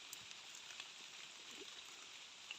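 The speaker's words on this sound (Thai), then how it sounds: "ตอนนี้ฝนกำลังตกอยู่" Light rain falls in a forest in the cold season, a faint steady patter with a few scattered drops close by, quiet and unbroken throughout.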